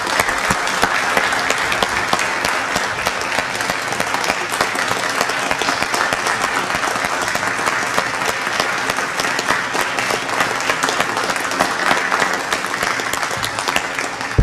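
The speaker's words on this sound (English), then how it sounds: "let's give Tracy a big round of applause." Sustained, even applause from an audience at a city council meeting, many hands clapping densely and continuously for a long stretch at steady loudness.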